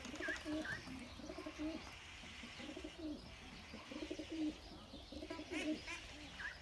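Pigeons cooing inside a coop, repeated soft throaty coos and a few chirps, close and quiet, with people talking faintly in the background.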